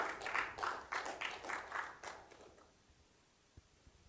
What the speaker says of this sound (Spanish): ¿Cuánto le da un aplauso a Jesús?